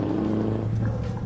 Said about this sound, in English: Love the sound of my truck.